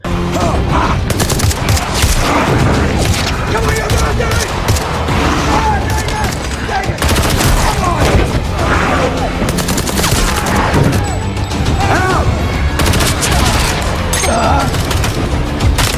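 Sustained gunfire from a sci-fi horror action film scene set against monsters, with dense overlapping shots and booms filling a loud, busy mix that also carries music and effects throughout.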